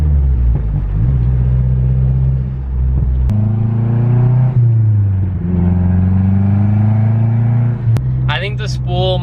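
A car with a freshly installed CorkSport top mount intercooler drives along, its engine a loud steady rumble inside the cabin that rises and falls in pitch as it accelerates, with a voice briefly at the end.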